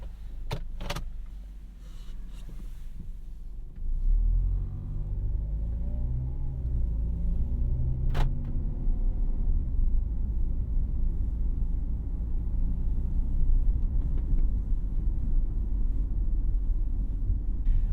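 Interior of a 2010 Ford Escape XLT with a 2.5L four-cylinder driving: a low, steady engine and road rumble fills the cabin after a few brief clicks and a power-window whir, holding constant without talk.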